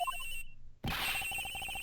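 A telephone rings in the Ace Attorney Investigations video game inside a flight attendant's room aboard a plane, a short chime followed by a steady repeating electronic ring after a brief silence.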